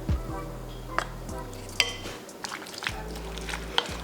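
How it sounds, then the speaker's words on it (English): Corn kernels being stirred into a sticky cornstarch mixture in a pan, with soft scraping, clinks of a utensil against the pan and faint sizzling, close and fairly quiet, no talking. "The cornstarch is making it like really stick. And let's add in the corn."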